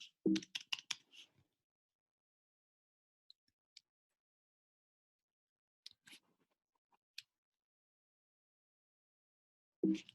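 Keys clack on a computer keyboard in short quick bursts, a rapid cluster at the start, scattered single taps in the middle and another burst at the end, with silence between.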